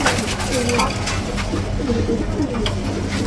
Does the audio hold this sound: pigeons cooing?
yes